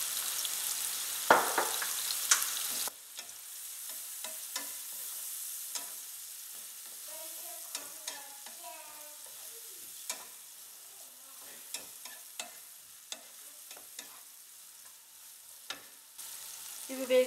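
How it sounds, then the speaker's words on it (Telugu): Sliced onions with salt and turmeric fry in a pan for a drumstick and peas masala curry, giving a steady soft sizzle. Repeated clicks and scrapes of a spoon stirring the pan sound close by, with no talk. "ఆనియన్స్ బాగా వేగాయండి"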